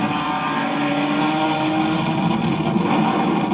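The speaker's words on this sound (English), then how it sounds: "You can hear his exhaust." A replica BMW M3 CSL drives by with its exhaust droning loudly and steadily, the engine rising slightly toward the end, close to the listener on crowded city streets.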